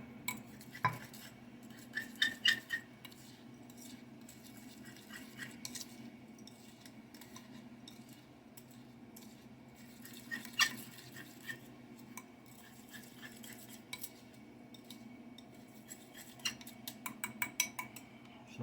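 Light clinks and scrapes of small charm materials being mixed together for Halloween protection charm necklaces, in sparse bursts over a quiet background with no talking.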